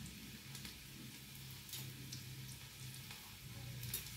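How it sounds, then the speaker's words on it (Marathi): Chopped garlic sautés in hot oil as a tempering for upma. It gives a quiet, steady sizzle and crackle throughout, with a faint low hum beneath and no voices. "लसूण चांगला परतून घ्यायचा आहे."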